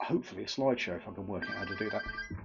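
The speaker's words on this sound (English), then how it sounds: "Sorry about the phone noises." A phone ringing with a steady electronic ringtone that rises in the second half of the moment, sounding under continuous close talk.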